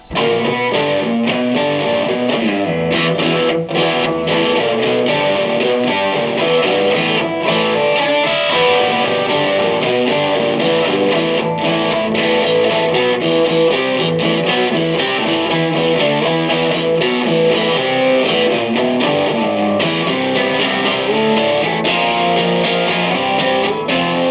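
A heavily distorted, thick-sounding 12-string Pinter Instruments Model SB2 plays continuous chords and riffs, loud and dense with no pauses.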